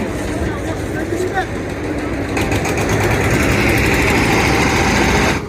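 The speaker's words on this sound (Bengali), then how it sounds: "এই যে ট্রলার দেখতে পাচ্ছেন ছুটে যাওয়া লঞ্চ ধরে দিবে ওরা" A trawler boat engine near Chandpur drones loud and steady at high revs as the boat races to catch a launch, with a voice talking over it.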